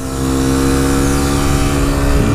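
A KTM RC125 sports motorcycle accelerating uphill, its engine rising into a loud, steady high-pitched drone with a strong buzzing tone close to the rider.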